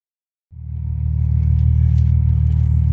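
A little car's engine starts up abruptly and settles into a steady, loud low rumble close by.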